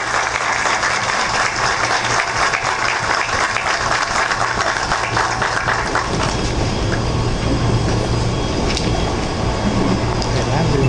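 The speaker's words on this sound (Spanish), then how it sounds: "Recibamos con un fuerte aplauso a nuestro honorable alcalde" Crowd at a Santo Domingo Este municipal ceremony applauds the mayor, a dense, steady wash of clapping filling the whole span with no pauses, under a faint low hum.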